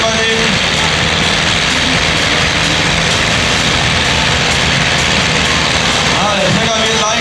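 Tractor engine roaring at full load during a tractor pulling competition at Porta Westfalica, loud and continuous throughout with dense crowd and arena noise around it.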